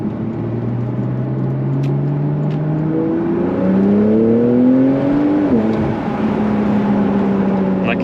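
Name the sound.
Porsche 911 991.2 GTS turbo engine revving to high rpm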